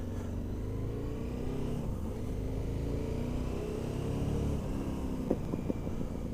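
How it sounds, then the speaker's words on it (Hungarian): A freshly started, still-cold motorcycle engine rumbles steadily with low throttle blips, and a few sharp exhaust pops crack near the end. "Mikor frissen beindítom a gépet, és nincs bemelegedve, kicsit ráhúzol, össze-vissza durrog a kipufogó"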